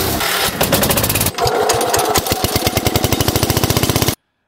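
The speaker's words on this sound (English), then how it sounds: "we're going to be using our homemade John Deere 317 half track" A homemade John Deere 317 half-track garden tractor engine chugs nearby while plowing snow in southern Maine. Its firing pulses quicken into a rapid rhythmic rattle before cutting off abruptly.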